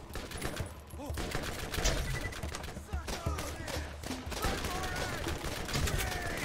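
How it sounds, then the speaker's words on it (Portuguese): Enemy gunfire in the video game Borderlands: dense, rapid shots crackling almost continuously for several seconds, loud and close, with scattered battle noise layered in. "Mais um carinha atirando."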